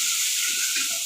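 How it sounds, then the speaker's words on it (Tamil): Onion sautéing in leftover fish-frying oil for an Odisha-style fish curry, a steady close sizzle and hiss with faint stirring, no talk over it. "அந்த மீன் ஃப்ரை பண்ண எண்ணெயிலே போட்டாச்சு. இது நல்லா வதங்கட்டும்."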